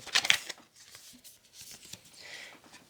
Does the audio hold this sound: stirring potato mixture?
no